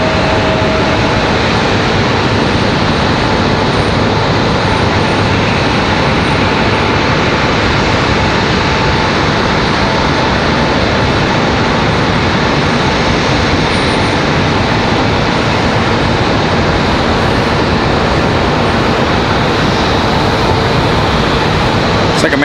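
A Delta airliner arriving from Orlando at Raleigh-Durham airport gives a broad, loud, continuous jet roar that holds steady across the whole stretch, with no voices on top.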